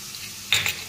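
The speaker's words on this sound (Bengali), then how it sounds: "এবারে রসুনটা একটু ভেজে" Garlic hitting hot oil in a pan, a short burst of bright sizzling over a steady background hiss, close and fairly loud, with a quick stir and no talking.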